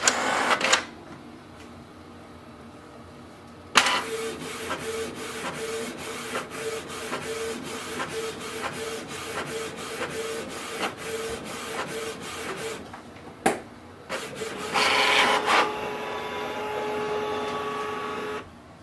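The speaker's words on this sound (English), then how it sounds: "It's going to print for first time." A Canon Pixma TS3720 inkjet printer runs its first copy for a long stretch, its carriage whirring back and forth with rhythmic mechanical clicks and feed noises, then a final paper-ejecting burst.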